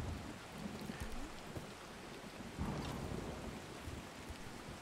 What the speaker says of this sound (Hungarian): Vagy itt hallod, hogy szakad az eső.